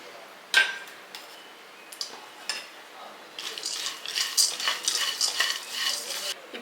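Peeled roasted gram dry-roasted in a pan for a baby's sathumaavu mix, with sharp scrapes and clinks of a spoon against metal that grow into busier, continuous stirring and rattling.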